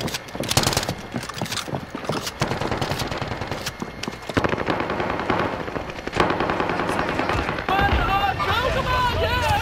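Rapid automatic gunfire rattles through a Call of Duty: Modern Warfare multiplayer match in dense, overlapping bursts, with players talking and calling out over the shooting.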